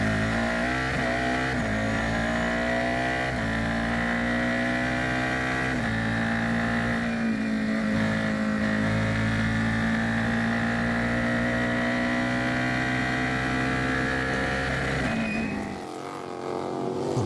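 F4 race cars at the Circuit of the Americas pass with a sustained, buzzing engine whine whose pitch climbs and shifts as they go by, then fades quickly at the very end.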